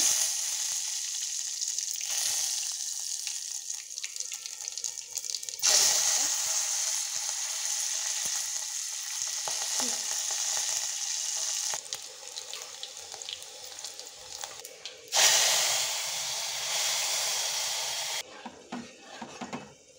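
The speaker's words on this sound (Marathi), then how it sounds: "हा असा तडका दिला मी वरणाला" Hot oil sizzles loudly as a tadka of mustard seeds, cumin and garlic is tempered for dal, a continuous crackling hiss that swells in bursts with brief stirring clatter.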